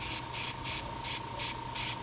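An airbrush sprays paint onto a portrait in short rhythmic bursts, about six evenly spaced hissing pulses over a constant faint hum, close and fairly soft, with no voices.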